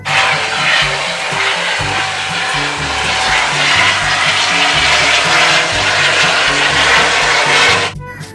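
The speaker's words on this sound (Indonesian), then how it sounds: "lihat teman-teman, helikopter warna merah." A red toy helicopter runs with a loud, steady, buzzing whir over faint background music, then cuts off abruptly near the end.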